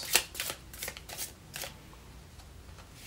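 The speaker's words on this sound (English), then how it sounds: "Okay, we get this a good shuffle" A deck of tarot and Lenormand cards being shuffled by hand, several crisp riffling bursts up close that trail off into quieter handling.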